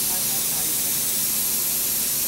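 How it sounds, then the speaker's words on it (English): An airbrush sprays paint onto a 1971 Volkswagen Deluxe bus with a continuous, steady hiss of air and atomized paint. It sounds close and unbroken throughout, and voices may sit faintly beneath it. "Airbrush it."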